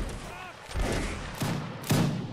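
Musket gunfire in a Mount & Blade line battle, several loud booming shots a fraction of a second apart over a noisy multiplayer background.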